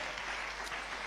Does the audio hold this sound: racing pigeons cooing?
no